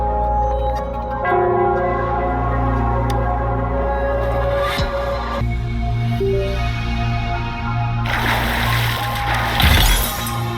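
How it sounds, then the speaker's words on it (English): Bell tolling in the video game Wuthering Waves, ringing over a sustained low musical drone with shimmering high tones and a brighter, crashing burst near the end. "The bell sounds closer now."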